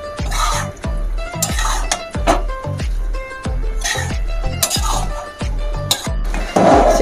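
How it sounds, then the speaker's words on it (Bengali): A spoon stirs vegetables in a pot for Bengali khichuri, scraping and clinking in a steady rhythm of loud strokes about every half second, close by with no talk. "ভালো করে নাড়াচাড়া করে মিশিয়ে দিই এটা ভালো করে।"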